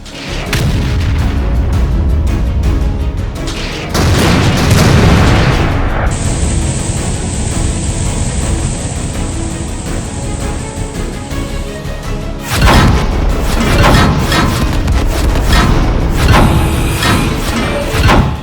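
A cartoon tank cannon fires with heavy booming blasts, the first bursts loud and close, then a long sustained rumble with a high whine, followed by another series of strong explosive booms.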